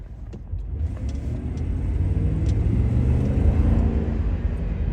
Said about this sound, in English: Downshift's really smooth once you give it some gas.